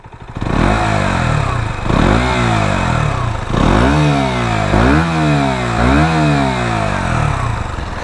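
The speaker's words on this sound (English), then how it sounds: "For everyone who wants to hear how it sounds, it doesn't sound too great, but I'll give you a little rev." A KTM 125 Duke with its standard exhaust back box revs repeatedly from idle. About five loud, close throttle blips rise and fall in pitch, each followed by a buzzy, rattly idle, with no talking.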